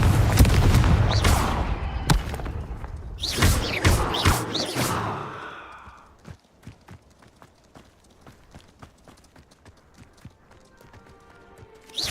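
The Confringo blasting spell from Hogwarts Legacy explodes as a few loud, close booming blasts with sharp cracks, followed by a quieter stretch of rapid clattering thuds and ticks.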